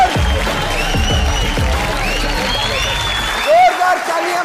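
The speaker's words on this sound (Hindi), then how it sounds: "जोरदार तालियां बजाओ।" A crowd applauds at the Bigg Boss 17 finale as winner Munawar Faruqui is welcomed: a constant, loud mass of clapping and crowd noise with music and voices mixed in throughout.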